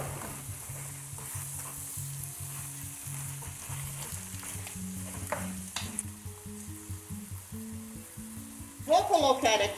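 Meat frying in a pot while being stirred, a steady sizzle with scraping spoon strokes and a louder burst of clatter near the end, under a low humming background.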